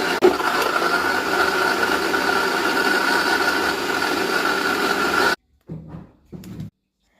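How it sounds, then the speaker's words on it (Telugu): A mixer grinder blends mango pieces with sugar and milk, its motor whirring loudly and steadily for about five seconds before cutting off, then two short pulsed bursts follow. "దాని తర్వాత బాగా మిక్సీ పట్టాలి."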